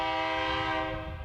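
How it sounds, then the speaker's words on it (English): A BNSF double-stack freight train sounds its horn up close, a loud sustained chord holding steady before tapering slightly at the end. "Here, an inbound double-stack train is pulling into the siding."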